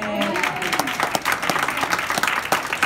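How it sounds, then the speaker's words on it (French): Applause from an audience at a French-language launch event, a dense burst of clapping that runs steadily for about three seconds at close range, with a few voices mixed in. "Par applaudissement?"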